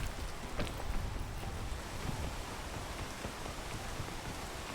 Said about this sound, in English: You can't get rained on in a cave.